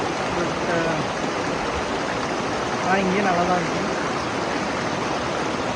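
The waterfall at Courtallam pours in a loud, steady rushing roar close by, with a person speaking briefly over the noise.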